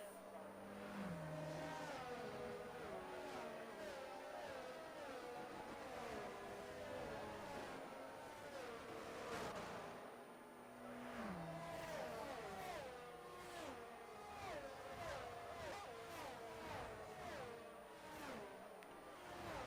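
Race cars lap Monza in a racing video game, engines rising and falling through gear shifts with a steady high-pitched whine, continuous and loud, with occasional voices over the engine noise.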